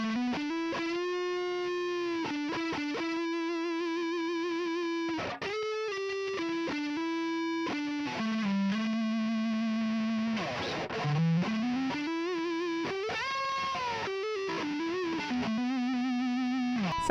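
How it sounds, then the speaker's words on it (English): A distorted electric guitar on an Ibanez RGA42FM with active pickups, neck pickup selected, plays a sustained lead line with bending, singing notes and long held tones, warm and smooth, heavily effected throughout. "Let's switch it up to the neck pickup and see what the lead tone sounds like."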